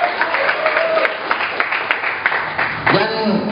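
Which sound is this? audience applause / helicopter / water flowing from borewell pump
audience applause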